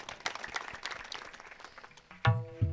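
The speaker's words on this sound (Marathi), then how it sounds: "सगळ्यांकरता एकदा टाळी वाजवा" Claps from the audience at a comedy kirtan, a scattered run of hand claps that ends in a sudden louder tonal burst from the sound system.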